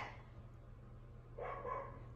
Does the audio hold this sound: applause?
no